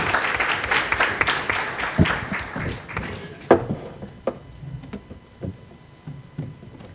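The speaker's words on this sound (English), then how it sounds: "please give him a round of applause" A conference audience gives a round of applause that is full and busy at first, then thins out halfway through into scattered individual claps and a few soft murmurs.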